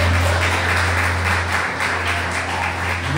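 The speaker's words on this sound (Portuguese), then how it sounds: "Aplauda o Senhor Jesus." A church congregation applauds in a steady, moderately loud patter of many hands, heard over a constant low electrical hum from the sound system, with no speech on top.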